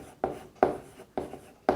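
Chalk or marker strokes writing results on a classroom board during a maths lesson, four distinct scratchy strokes in a steady rhythm, close and clear with no talking.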